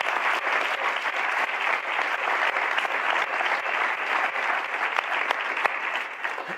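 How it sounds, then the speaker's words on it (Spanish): Audience applause at a talk on crewed missions to Mars: sustained, even clapping from a sizable crowd, moderately loud and steady for several seconds with no talk over it. "Un aplauso a Sara, por favor."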